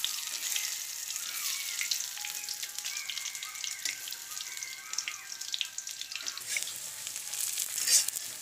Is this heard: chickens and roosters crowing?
no